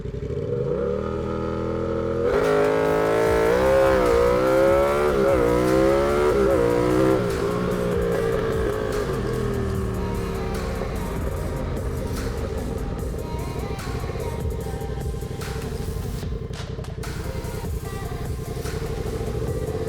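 A turbocharged Yamaha MT-07 motorcycle launches hard in a 0-60 mph run, its engine climbing through repeated upshifts in a loud, close roar that settles into a steady high drone, with no voices.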